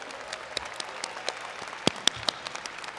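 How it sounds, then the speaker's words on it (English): Sparse, thin clapping from a high school graduation audience, scattered individual claps rising out of a quiet hall, faint and irregular with a few sharper near claps. "can I please have a round of applause for all the students sitting in front of me?"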